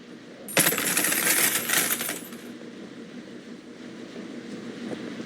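Coins clatter and jingle as they are collected in a laundromat video game, a bright cascading spill of metallic clinks lasting about two seconds, followed by a quiet low hum.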